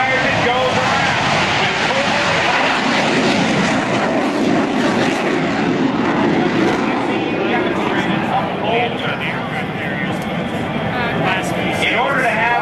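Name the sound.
Boeing F/A-18F Super Hornet jet engines at airshow demonstration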